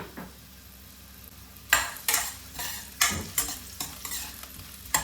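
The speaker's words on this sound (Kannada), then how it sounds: "ಆನಿಯನ್ನ ಈ ಥರ ಚಿಕ್ಕದಾಗಿ ಚಾಪ್ ಮಾಡಿಕೊಂಡು ಆನಿಯನ್ ಹಾಕಿ ನೀಟಾಗಿ ಫ್ರೈ ಮಾಡ್ಕೊಳ್ಳಿ" Chopped onion frying in oil in a pan, a quiet steady sizzle punctuated by several sharp scrapes and clinks of a utensil stirring against the pan.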